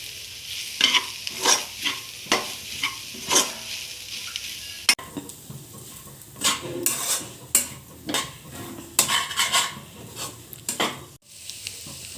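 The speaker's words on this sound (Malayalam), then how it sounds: "കുറച്ച് ജീരകപ്പൊടി, കുറച്ച് മഞ്ഞൾപ്പൊടി, കുറച്ച് ഗരം മസാല ഇതെല്ലാം ഇട്ട് പച്ചമണം മാറുന്നത് വരെ വഴറ്റണം." Cumin, turmeric and garam masala are sautéed and stirred in a pan for pepper chicken gravy, with rhythmic scraping strokes of a spoon over a soft sizzle, loud and close.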